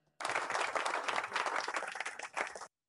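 A burst of dense applause from a group of children, close and steady for a couple of seconds before stopping abruptly.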